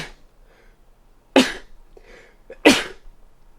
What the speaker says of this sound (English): I'm gonna sneeze again.